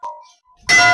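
A Hindu temple bell is struck at Kunjapuri temple in Uttarakhand. A faint ring comes first, then a loud, bright metallic clang bursts out close by and keeps sounding, with no talking.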